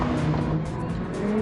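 A race car on a circuit during a championship semi-final, its engine a steady, loud drone with a tonal whine running continuously through the moment, close and unbroken.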